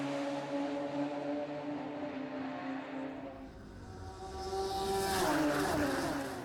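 Radical race cars at Snetterton circuit give off a continuous loud engine drone, rising and falling in pitch as cars pass and shift, with a second engine note swelling closer near the end.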